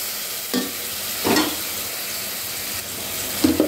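Ginger fries in a pan for egg biryani with a steady close sizzle, broken by a few scraping spatula stirs.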